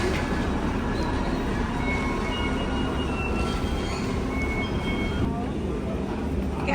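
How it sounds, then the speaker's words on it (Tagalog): The Hong Kong Peak Tram runs along its rails with a constant, loud rumble and faint high squeals from the wheels, and no pauses throughout. "The train."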